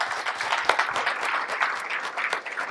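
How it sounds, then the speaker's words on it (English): An audience at a men's church conference applauds, with a dense, continuous patter of many hands clapping close by. "I want to applaud you guys for what you guys came to do to help make it successful."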